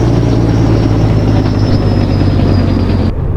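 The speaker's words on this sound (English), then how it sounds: "Love that exhaust brake." Heavy truck exhaust brake rumbling loud and steady in American Truck Simulator while driving in Utah, a deep continuous engine drone that cuts off abruptly near the end.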